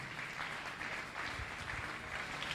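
A French-speaking church congregation claps together to acclaim the Lord, a dense, steady wash of applause that carries evenly from start to finish with no voices over it.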